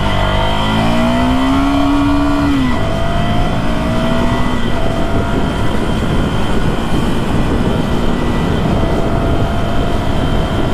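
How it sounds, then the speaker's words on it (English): A Ducati Monster 797+ with an 803cc L-twin engine revs up and climbs in pitch, then drops and roars on at high speed, loud and close throughout. "So this one has an 803cc L-twin, and let's give it some beans."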